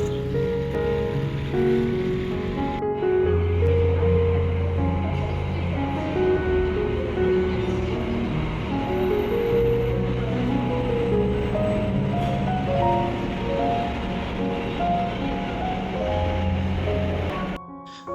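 A long metro train journey gives a continuous loud interior rumble with a steady low motor hum and a constant broadband rush that barely changes for the whole stretch.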